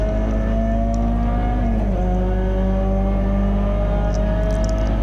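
Peugeot 206 GTi 180 racing at Silverstone, its engine a steady loud in-car drone that holds high revs, dips briefly at a gear change, then pulls on again.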